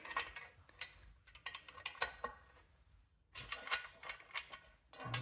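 Ratchet loosening a bolt on a roof platform of a Denza B5, faint close clicking and ticking in irregular bursts with brief pauses.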